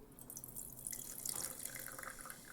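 Lemonade being poured into a glass, a faint close trickle and splash of liquid with no talking.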